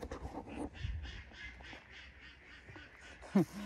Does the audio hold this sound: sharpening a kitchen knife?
no